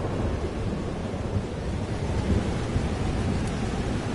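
A thunderstorm in the Life is Strange Double Exposure video game rumbles on with heavy, steady rain and a low rolling roar of thunder, loud and unbroken, with no talking.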